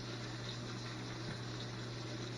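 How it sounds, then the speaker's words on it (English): Pasta water boils in a pot on a stove, a dense continuous bubbling and hissing wash with a steady low hum, no pauses. "I've got the pasta water boiling right here."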